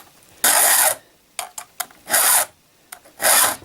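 A hand file rasps across a chainsaw chain in three long, loud strokes, with short scraping touches between them, close and rhythmic with no talking.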